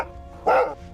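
A single short dog bark, one clear mid-pitched woof standing out briefly against a quiet background.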